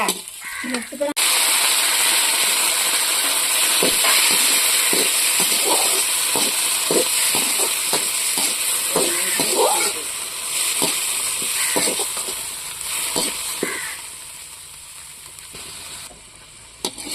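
Chopped tomatoes sauté in a hot pan for a Tamil dried anchovy curry, a steady close sizzle and hiss running throughout, broken by frequent sharp clicks and scrapes of a spoon against the pan, with talk over the cooking.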